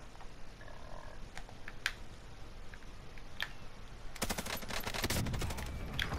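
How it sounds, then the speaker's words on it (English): Gunfire in a shooter video game: scattered single shots early on, then a dense burst of rapid automatic fire over the last two seconds, fairly close and loud against a steady background with no talking. "Somebody else shooting him in there."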